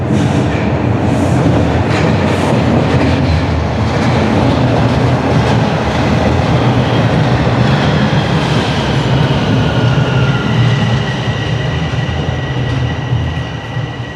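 A Toronto subway Line 4 train rolls into Bessarion Station, a loud, steady rumble with rattling wheels and a rising squeal near the end, no voices over it.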